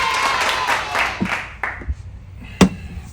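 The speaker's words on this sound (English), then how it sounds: "Big round of applause." Applause sound effect: a crowd clapping that quickly thins and fades away, ending in a few scattered claps, with no voices.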